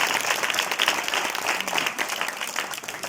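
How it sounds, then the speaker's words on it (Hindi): A crowd at a youth gathering in Jalalpur claps in sustained applause, a dense wash of many hands at a steady level with no pause throughout. "ताली पीटो।"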